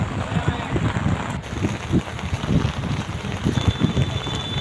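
Heavy rain pours down around a rooftop, a steady dense wash of drops with gusty wind buffeting the microphone and low rumbling thumps throughout, loud and continuous.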